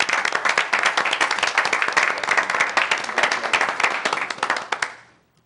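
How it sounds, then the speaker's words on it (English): A round of applause at a city council meeting, a small group clapping crisply and quickly for about five seconds before it stops abruptly, leaving near silence. "Let's give him one more round of applause."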